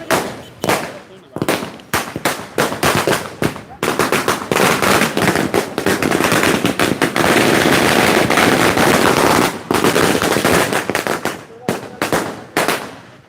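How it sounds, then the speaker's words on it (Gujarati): Strings of firecrackers burst at an election victory celebration for an independent candidate in Diu and Daman, loud rapid crackling salvos running continuously through the middle with shorter separated bangs before and after. "અહીંયા ફટાકડા ફોડી અને તેઓ અત્યારે ઉત્સવ છે તે મનાવી રહ્યા છે, જીતનો ઉત્સવ મનાવી રહ્યા છે"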